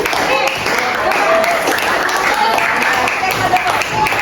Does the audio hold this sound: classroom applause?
yes